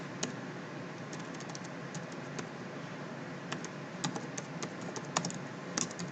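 Light tapping on a computer keyboard, with soft scattered keystrokes and a few sharper clicks in short bursts over a quiet, steady room hiss; no talking.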